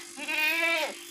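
A female goat on a livestock sale farm gives a single loud, close bleat of about a second, wavering and nasal, with nothing else around it.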